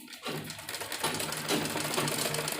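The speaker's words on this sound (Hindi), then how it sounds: "और यहाँ पर हम इसके किनारे पर सिलाई लगाएंगे।" A sewing machine runs steadily, its fast mechanical rattle stitching along the edge of a baby dress at close range after a brief quiet start.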